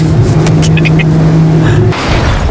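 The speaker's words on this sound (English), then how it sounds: "There's just something so masculine about driving overpriced, loud cars On a private racetrack." A loud, expensive car on a private racetrack gives a steady, droning engine tone that holds for about two seconds, then drops suddenly into a rougher, broadband rush.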